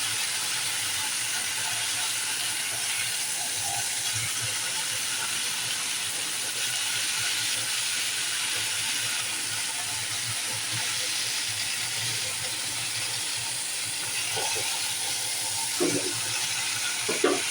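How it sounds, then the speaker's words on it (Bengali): Panch phoron spices and jaggery fry in a pan for sweet mango pickle, giving a steady, close hiss and sizzle that continues throughout with a few faint clinks near the end. "প্রায় ভাজা হয়ে এলো।"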